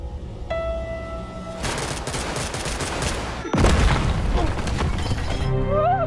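A planted bomb detonates in a film: a long, rumbling blast with crashing debris, then a second, louder surge of explosion noise, all under a tonal music score.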